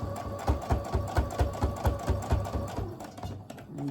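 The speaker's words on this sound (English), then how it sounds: "Okay, so I'm sewing it all around, 1/4 inch." Close by, a sewing machine runs a quarter-inch seam around a quilted nine-patch tote, its needle thumping in a fast, even rhythm for several seconds before slowing.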